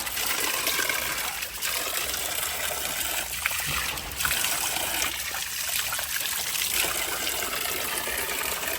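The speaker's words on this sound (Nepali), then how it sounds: "मुलको पानी खानु" Cold spring water trickles from a mountain spring in a soft, continuous babble that stays fairly faint and unbroken for the whole stretch, with no talking.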